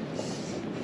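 A homemade forge blower runs in a steady, loud, continuous roar with a broad whooshing rush and no pauses.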